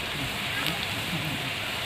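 Chopped onion and spices frying in hot oil for a bitter gourd curry give a steady, dense crackling sizzle close to the mic, with a voice faintly under it.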